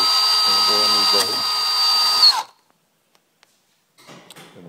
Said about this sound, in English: here comes the fun part, drilling holes in a brand new boat.